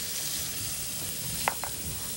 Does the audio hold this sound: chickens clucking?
no